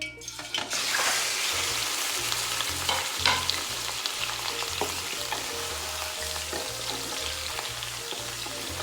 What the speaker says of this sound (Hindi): कढ़ाई में हमने ऑयल डाल दिया है। अब हम इसमें चिकन ऐड कर देंगे।